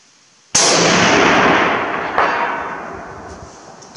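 A single loud Vz 54 rifle shot, a sharp sudden crack followed by a long rolling echo that decays over a few seconds outdoors, with a faint second report in the tail.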